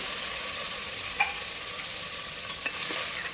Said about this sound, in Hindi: और इसको थोड़ा सा हम बटर के साथ में सौटे कर लेंगे।